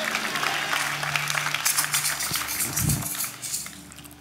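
Church congregation clapping during a sermon, a loud burst of mixed applause and crowd noise that thins out toward the end, with a voice briefly heard over it.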